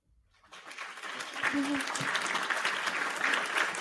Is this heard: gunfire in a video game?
no